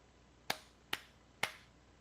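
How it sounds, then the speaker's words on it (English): Three sharp hand claps, evenly spaced about half a second apart, each crisp and isolated against a quiet room background. "Let me do the claps."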